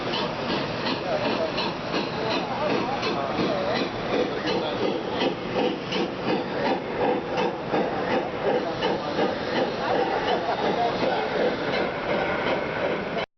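A steady, rhythmic clatter of small Gauge 1 model train wheels spinning on a rolling road, running continuously at an even pace without pause.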